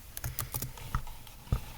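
A few quick computer keyboard presses for a save and control-click while working on a JavaScript file, with scattered close, soft clicks and thumps over a light background hiss.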